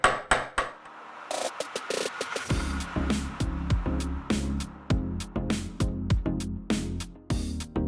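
Metal bracelet piece for a rosary-style bracelet being hammered flat on a hard surface, a steady series of sharp, ringing strikes close up, each followed by a brief decay, with no talking.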